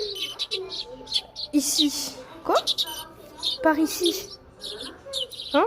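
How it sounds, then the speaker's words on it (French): Mouse squeaks in a ghost-hunting video game: short high chirps come in several quick bursts while someone talks over them almost constantly. "c'est pas un bruit d'oiseau, c'est un bruit de souris."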